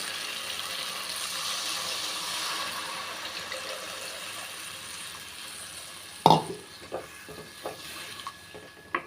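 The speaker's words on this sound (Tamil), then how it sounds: "இப்போ வந்து புளித்தண்ணி சேர்த்துக்கலாம்" Tamarind water is poured into a simmering pea curry (pattani kulambu) in a home kitchen: a steady soft bubbling hiss, then a sudden splash near the end followed by a few small knocks and drips.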